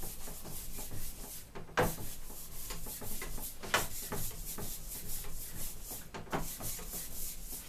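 A steel trowel drags and rubs over metallic plaster on a wall, making a continuous close scraping hiss with a few sharper swipes as lines are pulled through the finish.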